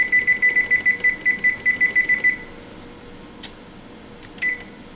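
A kitchen timer beeps in a rapid, steady series of bright electronic tones for about two seconds during cooking of swamp rabbit gravy, then stops, leaving a quiet room with a couple of small clicks.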